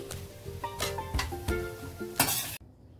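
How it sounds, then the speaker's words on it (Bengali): Taro leaves with chickpeas are stirred in a pan, a run of close scraping and tapping strokes against the metal over a light sizzle, cutting off abruptly to near silence. "এবার খুব ভালোভাবে 5 থেকে 7 মিনিট এভাবে নাড়াচাড়া করলেই কচু শাক রেডি"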